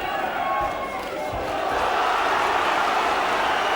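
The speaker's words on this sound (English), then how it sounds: "Every punch, whether it misses or lands, is being cheered by this crowd." A boxing crowd roars steadily through a heavyweight bout between Michael Hunter and Steve Mollitor, a loud, dense wash of cheering with a couple of low thuds early on.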